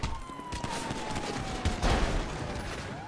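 A dense fusillade of gunshots rattles in a video game roleplay server amid a police scuffle, with rapid overlapping shots and a siren-like whine running continuously for a few seconds, loud and close.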